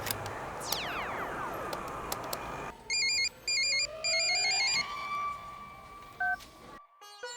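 An outgoing phone call on a landline: a swooping electronic tone gives way to dial tones and repeated ringback beeps in bursts, followed by a click, all fairly faint and without voices.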